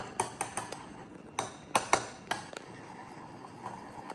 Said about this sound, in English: Let's mix it up.